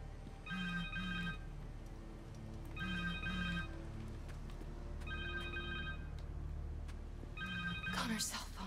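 A cell phone rings in the Spider-Man 2 video game, its repeating electronic ring pattern sounding in several bursts over steady in-game background sound.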